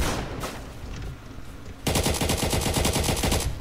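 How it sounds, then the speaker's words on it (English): Rapid automatic AK rifle fire in the Roblox game Neighborhood War, a loud, evenly spaced string of shots that starts about halfway in after a noisy, muffled stretch. "Also, this AK has a really good,"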